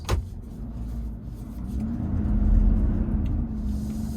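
A 2022 Ford F-350 truck turning around on a gravel road, steady low engine rumble that swells slightly as it maneuvers, with a brief knock at the start, heard from inside the cab.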